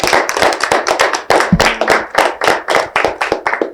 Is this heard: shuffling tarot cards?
no